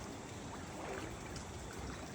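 Floodwater rising and flowing in Itahari after continuous rain, a steady broadband rush of water running throughout at close range, with no voices over it.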